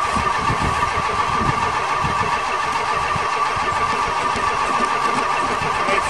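A 1975 Chrysler New Yorker engine cranking over, a continuous loud, rough churning drone with steady rhythmic pulses that never clearly catches and settles into an idle.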